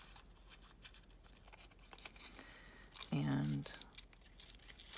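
Newspaper is torn by hand in short, scratchy rips that come in several bursts. A brief spoken word and soft talk sit underneath.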